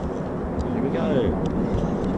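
A military jet departing an RAF base, a Eurofighter Typhoon FGR4 or BBMF Spitfire PR. XIX, rumbles at a distance as a low, steady roar that swells slightly midway.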